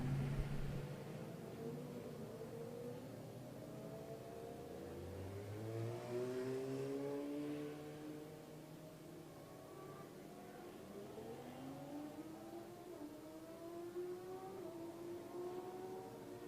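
Racing motorcycles circulate on the warm-up session at Killarney raceway, their engines rising and falling in overlapping revving sweeps, faint and distant under a wash of background noise.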